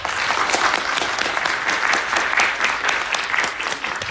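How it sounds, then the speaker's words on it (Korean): A lecture audience claps together in a dense, steady burst of applause that holds at an even level for a few seconds, close and loud. "이승만 대통령을 위해서 박수 쳐."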